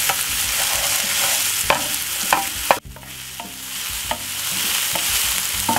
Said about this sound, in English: Fry it up about 2 to 3 minutes.